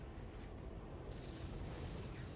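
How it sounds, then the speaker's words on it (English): Bazooka fire in Armored Core: For Answer, a dense wash of explosive booms and rumbling blasts that stays steady and loud throughout, with no voices. "Oh, they're firing bazookas."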